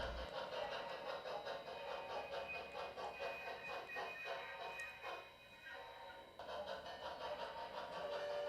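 A model train on the SP Santa Rosalia Branch layout runs around its cars to couple onto a caboose, giving a faint, continuous rolling hum and clatter with a few soft clicks.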